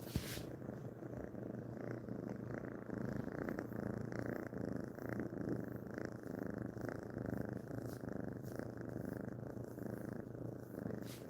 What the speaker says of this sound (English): The purring of a kitten is so adorable.